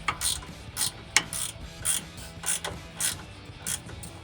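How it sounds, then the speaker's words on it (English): A ratchet wrench snaps out regular bursts of clicks while bolts are tightened on a Steer Smarts Yeti XD sector shaft brace on a Jeep Wrangler JK, close and steady with no talking. "now we can tighten these down now that I got that clip in."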